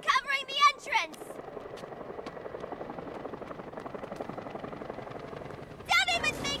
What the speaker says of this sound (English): Get that chopper down here now!